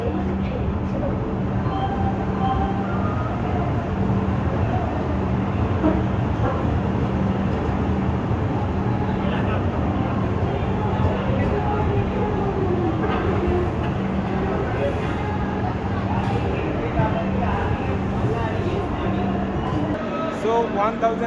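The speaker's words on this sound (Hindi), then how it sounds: "ट्रेन हमारा पहुंच चुकी है काजीपेट जंक्शन पे" Bengaluru Rajdhani Express AC train running, a continuous loud rumble and rattle heard from inside the moving coach, with a steady hum throughout and faint rhythmic clatter.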